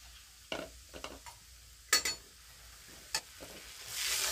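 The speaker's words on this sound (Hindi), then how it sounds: "सूजी को अच्छी तरीके से रोस्ट कर लेंगे।" Semolina being stirred and roasted in hot ghee in a pan, with a soft sizzle under a few scraping clinks of a spoon against metal, close and quiet.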